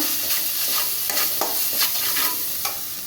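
Garam masala stirred through potol dorma filling in a hot frying pan: a steady sizzle with repeated scraping strokes of the spoon, close and fairly loud, no voices.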